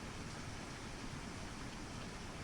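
Steady, soft rain falls in an even wash of hiss, quiet and unbroken, with no voices and no distinct drops standing out.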